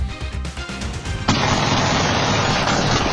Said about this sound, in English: Video captures the sickening spree of gunfire.